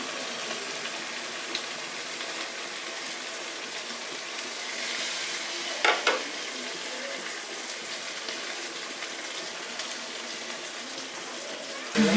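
Fish pieces go into a pan of frying spiced potato curry, giving a steady hissing sizzle at moderate volume with a couple of brief clattering bumps partway through and at the end.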